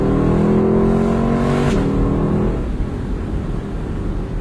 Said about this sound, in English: when you're really revving it out